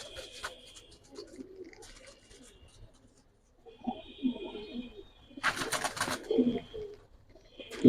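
Fancy pigeons at a pigeon market, including Giribaz Silver, Bezi, Pankhi and Teddy high flyer birds, coo softly in bursts amid rustling and scattered bird calls, with a brief louder noisy burst partway through.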